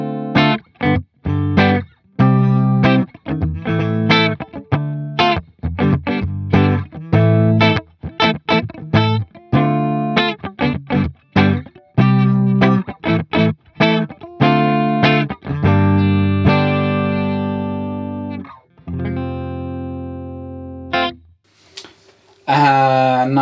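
Electric guitar played through the clean channel of a REVV Dynamis amp into a closed-back REVV 4x12 cabinet, with loud, bright strummed chords and single notes in a steady rhythm, some ringing out, others cut short.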